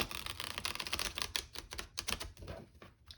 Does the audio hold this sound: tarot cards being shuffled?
yes